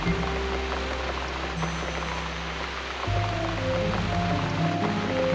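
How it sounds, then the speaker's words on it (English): Steady rain patters in the video game The Cat Lady, a soft continuous hiss alongside low sustained musical tones, with no talking. "Oh, cozy rain. I love it."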